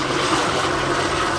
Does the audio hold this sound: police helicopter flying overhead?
yes